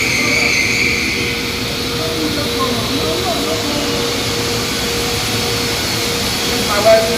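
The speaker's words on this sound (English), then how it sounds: "This is my welding machine." Welding machine running at a duplex job site, producing a loud, steady roaring drone that continues unbroken throughout.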